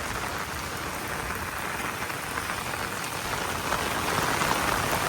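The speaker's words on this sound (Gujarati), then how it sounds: "આ આટલો સરસ મજાનો આ વરસાદ પડે છે." Heavy rain pours steadily in a town during monsoon, a dense, even hiss of drops on surfaces that swells slightly louder toward the end, no talk.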